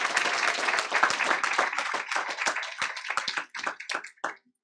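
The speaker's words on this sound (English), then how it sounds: "And let's give Laura a big round of applause, please, one more time." Hearty applause fills a school board meeting, a dense, close burst of clapping that thins into scattered claps and stops just before the end.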